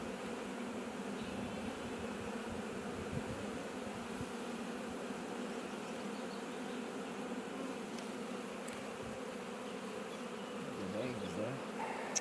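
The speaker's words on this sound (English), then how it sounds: "There's too many bees." Dense, steady buzzing of many honeybees close by, a constant droning hum with occasional louder passes.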